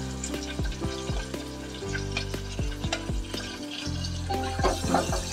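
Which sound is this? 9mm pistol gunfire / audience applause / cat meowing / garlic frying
garlic frying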